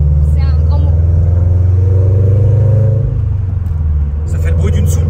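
A BMW engine revving hard during a drift, a loud, close, sustained low roar that eases off partway through, with people talking over it.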